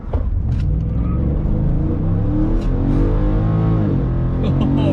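A Ford F150 pickup accelerates hard from a standstill, its engine roaring loud and close with a steady, continuous rumble as the revs climb.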